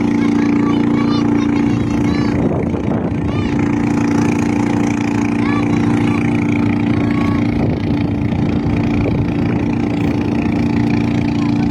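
A motorboat engine drones steadily nearby with a loud low hum while towing another boat at sea off Calatagan, Batangas, joined by splashing and rumbling.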